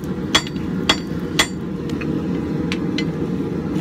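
Three evenly spaced hammer strikes ring out on scrap steel at the anvil while forging a Viking axe, then lighter, quicker taps follow over a constant low rumble.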